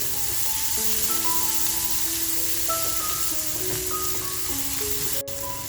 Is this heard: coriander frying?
yes